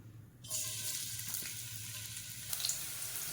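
Chopped ginger dropped into hot oil in a pan for chicken fry, bursting into a sudden loud, steady sizzle that continues without pause and flares briefly again near the end.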